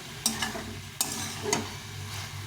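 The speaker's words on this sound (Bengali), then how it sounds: "আলুটা দিয়ে দিলাম এখন এটাকে ভালো করে একদম কষিয়ে নিতে হবে" Potatoes stir-fried in a pan give a soft continuous sizzle with a few sharp spatula scrapes and knocks, close up and without speech.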